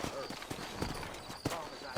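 Horse hooves clip-clopping in the video game Red Dead Redemption, a quick, uneven run of hoof beats close by, with someone speaking over them.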